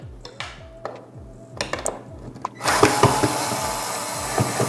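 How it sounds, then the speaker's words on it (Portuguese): Small screws being removed from a robot vacuum cleaner casing, giving scattered clicks and ratcheting ticks, then a louder stretch of metallic clattering and rattling parts close by. "abrindo o robô, vou ter que tirar estes parafusos todos"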